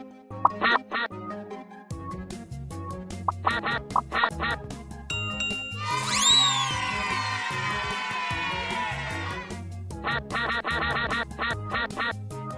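Cartoonish duck quacks repeat over a bouncy electronic tune in the phonics game Teach Your Monster to Read, with a rising musical flourish in the middle.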